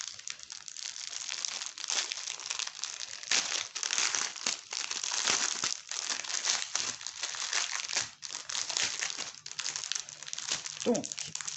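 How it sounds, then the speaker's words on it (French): Plastic packets of diamond painting drills being opened, a dense, close crinkling and crackling that runs almost without pause, with brief louder crunches. "J'ouvre les diamants, excusez-moi pour le bruit."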